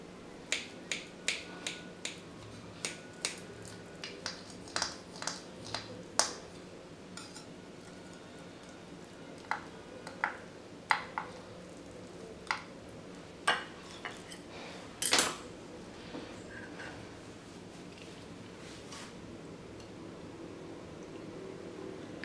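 A knife slices through and serves a baked egg and potato gratin, giving a series of sharp clinks and taps of metal on a dish, spaced unevenly and fairly close, with no talking.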